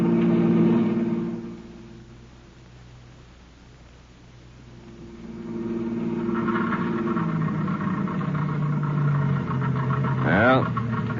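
A car engine running out of gas in a 1951 radio drama rumbles unevenly, fading and then surging back roughly before it sputters, with voices faintly audible over it.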